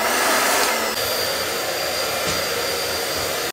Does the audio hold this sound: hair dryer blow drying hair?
yes